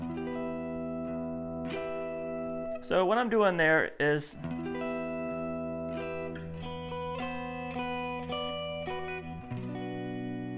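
A clean-tone electric guitar plays an intro in sustained, ringing notes, with a voice talking briefly over the playing partway through.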